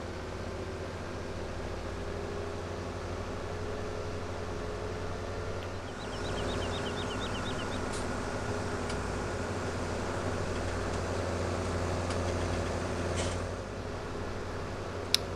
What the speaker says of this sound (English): I want to keep a little bit more control on the tractor in this sort of iffy weather